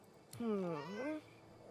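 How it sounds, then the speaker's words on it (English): A black cat with clouded grey eyes in Divinity Original Sin II gives one clear, drawn-out meow with a rising and falling pitch, close and moderately loud against quiet background. "A black cat."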